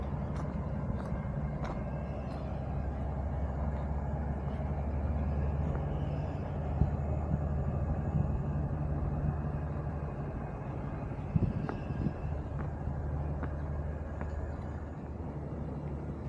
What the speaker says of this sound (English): That's my train leaving.